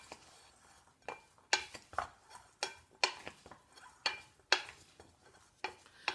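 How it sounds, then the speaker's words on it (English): A spoon stirs bean and corn salsa with green olives in a bowl, giving a series of soft scraping and clinking strokes, close and moderately quiet, in an irregular rhythm with brief pauses between them. "let me just get a spoon and I will mix this together a little bit."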